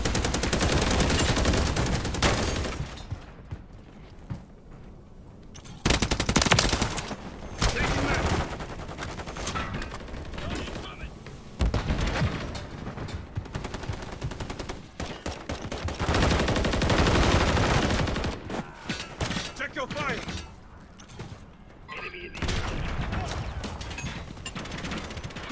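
Assault rifle fire in Call of Duty: MW3 multiplayer on the Rust map, loud bursts of automatic shots broken by short pauses, with mechanical weapon handling sounds mixed throughout.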